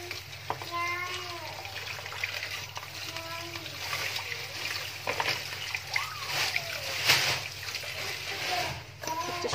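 Water splashing and running in a kitchen sink while dishes are washed, an irregular clatter and splatter under a steady hum, with a voice talking over much of it.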